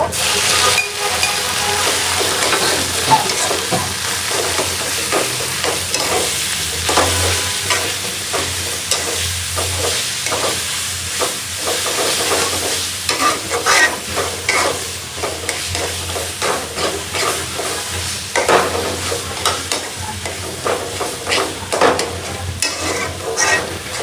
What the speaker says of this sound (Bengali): পেঁয়াজটা কিন্তু হালকা ভাজা হয়ে গেছে, এখন হচ্ছে শাক দিয়ে দিব।